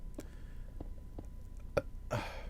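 A single short, throaty burp sounds from a person during a Minecraft play session, close and fairly loud against a quiet background with a few soft clicks.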